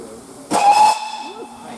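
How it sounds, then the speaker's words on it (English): Steam whistle of GWR Class 4200 tank locomotive 4270, a short loud hissing blast with a clear steady tone lasting about half a second, then fading into lingering steam hiss and faint background voices. "Nice whistle."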